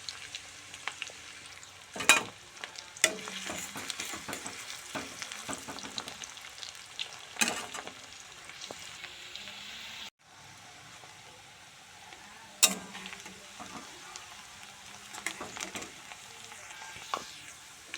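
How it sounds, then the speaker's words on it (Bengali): Chopped onions fry in mustard oil for a homemade chicken curry, a continuous crackling sizzle broken by sharp scrapes and clanks of stirring at irregular intervals, with no talk. "তো বন্ধুরা, আমি এবার পেঁয়াজ কুচিটা ভালো করে লাল লাল করে ভেজে নিব।"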